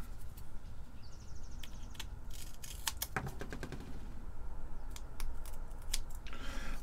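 Scissors snip close to the microphone, trimming material around a part on an Atari 1050 disk drive power supply board, with sharp, quick cuts in irregular bursts over a low background hum and no talk.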